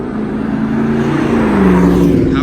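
A Honda S2000 fitted with an Invidia test pipe exhaust drives past close by, its raspy engine note rising and shifting in pitch as it accelerates through a short, loud pass.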